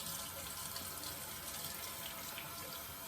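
Tap water runs steadily into a bathtub or sink for rinsing a freshly straight-razor-shaved head, a constant broadband splash held at low level throughout with no talking.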